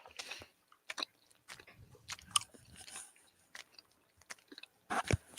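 Quiet close-up chewing of a chewy coconut and dark chocolate snack, soft irregular bites and moist mouth clicks spread across several seconds with no talking.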